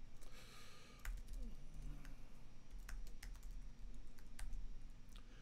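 Typing on a computer keyboard while writing code, with a quiet, close run of irregular key clicks and taps and a faint low hum beneath.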